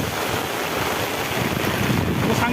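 Strong wind drives through heavy rain in a village, roaring as a dense, steady rush of buffeting noise close to the microphone with no pauses.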